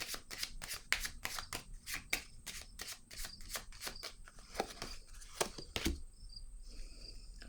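Playing cards handled for a card trick, a fast, regular series of crisp riffling snaps and flicks close by, slowing into a few separate taps near the end, no talking.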